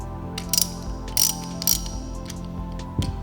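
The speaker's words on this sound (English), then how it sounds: "we're going to tighten the bolts back up" Ratchet wrench clicking in short bursts as bolts are tightened back down on a Model 360 machine after servicing, close and fairly quiet, with a steady mechanical hum underneath.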